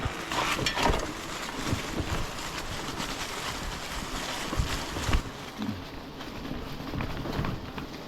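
Off-road vehicle plowing through a mud hole on a trail in Michigan's Upper Peninsula, with a steady engine rumble and sloshing, splashing water throughout, and wind buffeting the microphone.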